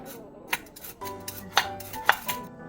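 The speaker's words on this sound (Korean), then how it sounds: "칼로 채 쏘는 게 더 편하네요" A knife julienning carrots taps sharply against a cutting board in a few irregular strokes, close up, with quiet gaps between the cuts.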